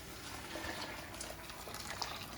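Hot water poured into a pot of split peas for soup, a faint steady splashing gush of liquid.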